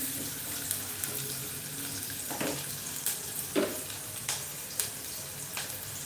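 Red onions stirred and fried in a pan, a steady soft sizzle with scattered scraping taps of the spoon, fairly quiet and close, no talking.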